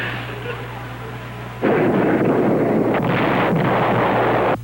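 A submarine torpedo launch in a 1977 film: after a quiet, low hum a sudden loud, sustained rushing blast cuts in and roars on for a few seconds.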